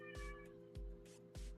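A cat named Oliver meows three times in short, separate calls spread evenly across the moment, fairly close and clear, against a steady low electrical hum with no one speaking.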